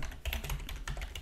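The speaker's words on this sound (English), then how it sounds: "by clicking in the search box and typing Windows Configuration" Quick typing on a computer keyboard: a close, brisk run of light key clicks in an uneven rhythm, alone without speech.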